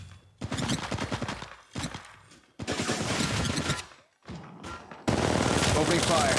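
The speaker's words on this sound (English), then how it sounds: "Opening fire. Reloading. Opening fire. Opening fire." Rapid gunfire bursts from Apex Legends Mobile in first-person mode, several loud volleys separated by short gaps, with a game voice line heard between them.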